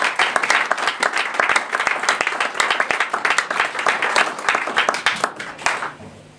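A church congregation breaks into loud, sustained applause for the Lord, dense clapping from many hands that fades out near the end.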